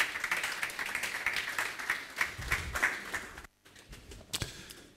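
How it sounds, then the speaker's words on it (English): Audience applause as a guest speaker approaches the podium at a power and electricity dialogue event at the Free University of Berlin; steady clapping from a mid-sized crowd that stops abruptly, followed by a few scattered claps. "Ladies and gentlemen, a round of applause for Dr. Felix as he approaches the podium."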